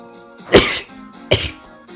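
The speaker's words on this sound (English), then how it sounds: "Sorry, that was a different sneeze." A person sneezing while playing Fire Emblem: The Binding Blade, two sharp explosive bursts about three-quarters of a second apart, close and loud over quiet game music.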